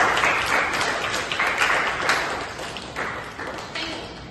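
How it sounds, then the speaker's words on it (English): Applause from an audience at an institution's project case-study presentation, a fairly steady wash of clapping that slowly tapers off across the clip. "So give a great applause to him."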